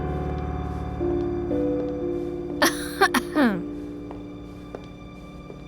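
A woman gives a quick burst of short coughs and throat-clearing, close by, over soft sustained background music.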